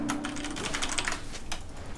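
Rapid typing on a computer keyboard while entering game chat during a League of Legends-style match, a quick burst of close, clattering keystrokes with no talking.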